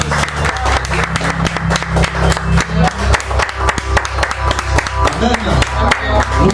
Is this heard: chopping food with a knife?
no